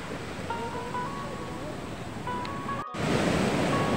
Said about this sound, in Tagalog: tingnan yung masa, nalakas na mga alon dito